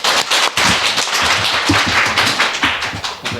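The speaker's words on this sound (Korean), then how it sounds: "이거 박수까지 쳐주셔서 너무 감사합니다" Church congregation applauding during a Sunday morning service, a dense burst of many hands clapping close and loud, with no talking.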